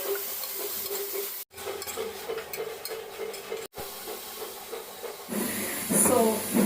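Mint, tomato and mixed vegetables frying with ginger garlic paste in a pan, a steady hiss of sizzling with scraping stirs throughout, briefly cutting out twice, then a brighter burst of frying near the end.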